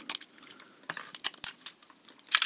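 A picked FB 11 and 14 lever padlock being locked back up: close metallic jangling clicks and clinks in quick irregular bursts, a sharper clack near the middle and a louder rattle at the end, with no talk.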